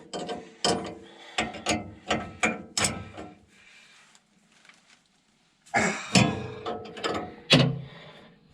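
A 3/4 inch socket wrench ratchets bolts that hold the concaves in, giving two close bursts of sharp, rapid clicking strokes separated by a quiet pause, loud and near with no talk.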